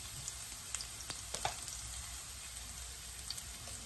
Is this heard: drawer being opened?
no